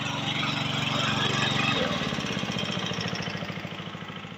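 Small engine driving a pump that waters newly planted raspberries runs loud and steady up close, then its throttle is eased back partway through and the pitch and pulsing drop to a slower, lower chug.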